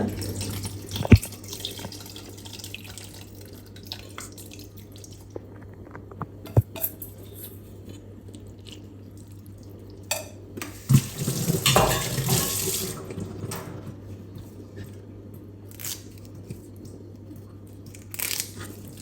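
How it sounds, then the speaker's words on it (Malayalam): Tamarind water poured into a ground spice paste in a home kitchen. It is a faint, intermittent trickle and splash with a few sharp clinks and a louder burst of flowing liquid midway, and no speech. "ഇനി പുളിവെള്ളം ചേർക്കാൻ പോവാണ്"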